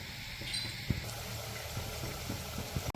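Water with jaggery heats in a pan on a stove for sharkkara varatti syrup, a faint, steady simmering hiss with a few soft bubbling pops.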